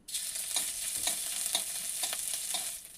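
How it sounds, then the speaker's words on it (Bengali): Chopped ginger fries in hot oil with a steady bright sizzle throughout, broken by soft regular stirring scrapes, close and fairly loud, with no voices. "তেলে দিয়ে দিচ্ছి আদা কুচি"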